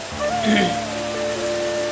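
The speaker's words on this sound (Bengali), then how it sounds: "আর প্রচণ্ড বৃষ্টি হচ্ছে, তোমরা তো দেখতেই পাচ্ছ ক্যামেরায়, প্রচণ্ড বৃষ্টি হচ্ছে।" Heavy rain falls in a steady, dense hiss that fills the whole stretch, with a faint tonal hum running underneath.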